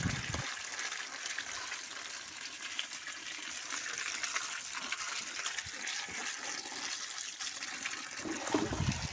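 Tap water gushes steadily through seeds held in a wire basket under a pipe, a faint, even rushing stream that runs the whole time without speech.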